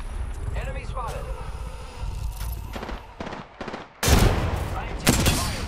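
Rapid bursts of video game gunfire crackle in clustered volleys, growing louder and denser toward the end, with a voice speaking briefly near the start.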